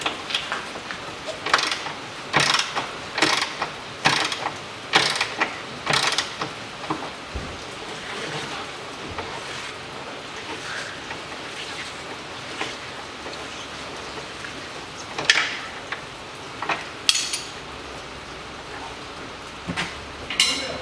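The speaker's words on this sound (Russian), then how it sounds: "Так, открутил болт, выдергиваем" Socket wrench turning out a ball joint bolt under a 2007 Citroen C-Crosser 2.4, giving a run of sharp ratcheting clicks and metallic creaks in the first seconds, then quieter scattered clicks and knocks, close by with no talk.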